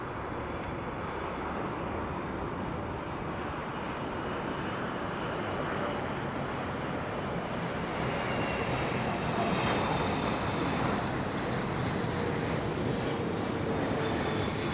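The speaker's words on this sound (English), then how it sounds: "Looks like a KLM jet just about to pass into those" A KLM jet airliner passing near Heathrow Airport in London early in the morning. It makes a steady broad engine roar that swells slightly midway and holds throughout, with no voices.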